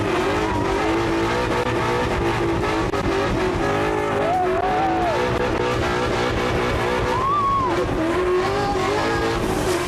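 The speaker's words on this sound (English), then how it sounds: "Now let's go do some real drifting." A drift car thrashed around a parking lot by drift champion Vaughn Gittin Jr., its engine roaring loudly and steadily throughout, with rising and falling revs and long squealing tire screeches, close and continuous.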